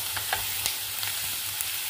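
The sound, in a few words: frying and stirring spices for dal makhani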